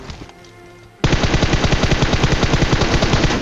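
Loud automatic gunfire in a battle video game starts abruptly after a quiet moment, then continues as a rapid, continuous machine-gun burst with closely spaced shots.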